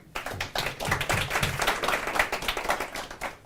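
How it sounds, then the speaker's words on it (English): A small audience at a property business success-story event claps in a brief, uneven burst, individual hand claps audible in the mix, fading out after a few seconds. "Round of applause for that."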